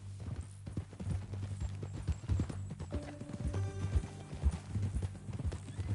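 Horse hooves clip-clop in a steady walking rhythm in Red Dead Redemption 2, with a horse's whinny rising partway through, over low ambient background and faint voices.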